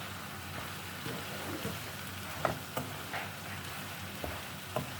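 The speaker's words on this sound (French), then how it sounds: "Je mélange bien." 500 grams of basmati rice stirred in a hot pot, giving a soft continuous sizzle with scattered light scrapes and clicks from the utensil, close by with no talking.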